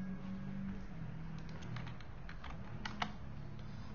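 JavaScript code being typed on a computer keyboard, a quiet run of irregular clicking keystrokes with scattered sharper taps and no voices.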